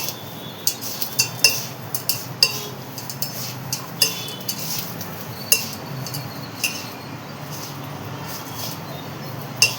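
A spoon stirs rava idli batter with chopped coriander and curry leaves in a bowl, giving a series of light, irregular metallic clinks and scrapes over a quiet background, no voices.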